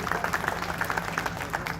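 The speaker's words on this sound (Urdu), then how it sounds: "ان کے لیے بھی ایک دفعہ تالیاں بجائیں" An audience at an expo claps in steady, dense applause, with many hands patting together at a moderate distance.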